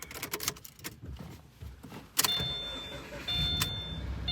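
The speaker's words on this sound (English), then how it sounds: "the engine fires up, that security light turns off" A Subaru engine cranks and catches with a sudden burst, then settles into a quiet idle while a faint electronic tone chimes as the security light turns off.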